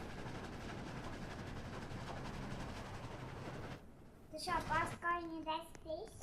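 A train in the Roblox game Dead Rails rumbles with a continuous clattering roll for several seconds, then the noise cuts off and a voice talks clearly over a quiet background.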